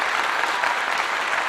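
An audience breaks into applause, a dense, steady wash of many hands clapping together, loud and continuous for a moment with no voices standing out.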